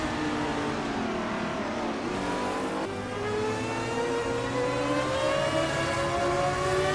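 A vintage 1983 Lola T616 Group C2 race car engine in a racing video game, revving steadily with rising and falling pitch, including a shift midway, loud and continuous with no voices.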